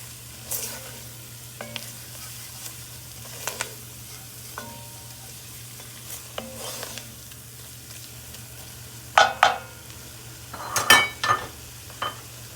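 Flour being stirred into a pan and cooking down as the base for a shrimp and crab bisque: soft scattered scrapes and light sizzle over a steady low hum, with a sharper clatter of utensil against pan near the end.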